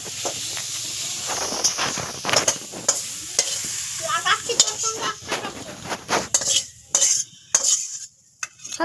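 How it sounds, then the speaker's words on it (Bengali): Spinach greens frying in a pan, with soft sizzling under repeated scraping and clinking stirs of a utensil, close and moderately quiet, fading into sparse knocks toward the end. "শাকটা ভালো করে ভাজা ভাজা হয়ে যাক"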